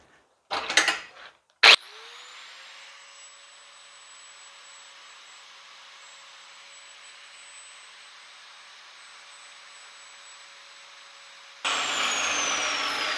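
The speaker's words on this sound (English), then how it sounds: "So just a little minute on a belt sander or grinder." A belt sander or grinder takes a little material off a backhoe control valve part so it clears Allen bolt heads. A few brief knocks come first, then a steady, even whine holds for about ten seconds before growing louder at the end.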